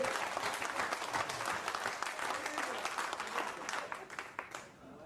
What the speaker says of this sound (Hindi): जोरदार तालियां के लिए हमारे भाई